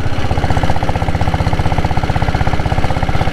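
A Royal Enfield Diesel Bullet motorcycle engine runs loud and close, a steady, rapid thumping beat that holds an even rhythm throughout with no pauses.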